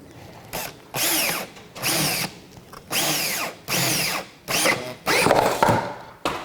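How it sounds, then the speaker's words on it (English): A power drill runs in six or seven short bursts, each about half a second, with brief quiet gaps between, loud and close. "now we'll drill 2 more holes"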